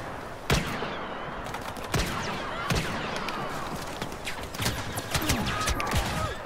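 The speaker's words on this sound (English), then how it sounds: "I already see shooting." Gunfire during a shooter video game match, with sharp single shots and rapid bursts over a continuous dense background of battle noise, steady and fairly loud throughout.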